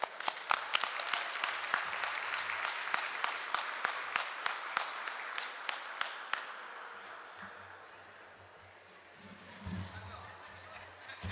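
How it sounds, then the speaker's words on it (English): Audience applause after a business speech at a Black Entrepreneurs Day event at the Capitol: a burst of many hands clapping that thins and fades out, followed by a low voice murmuring near the end. "Give yourselves another round of applause."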